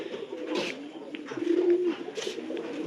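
Pigeons on a farm give a string of low, rolling coos close by, with one drawn-out call standing clear in the middle. A few faint, sharp noises sound around them.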